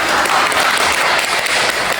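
A classroom full of students applauding a group's discussion results, a dense, steady wash of clapping throughout.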